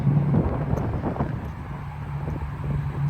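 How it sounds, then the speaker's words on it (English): Gusty wind buffets an outdoor microphone on a windy day at a car dealership, a continuous low rumble and roar that swells and eases, with a steady low hum underneath. "it's a windy day today, a little noisy"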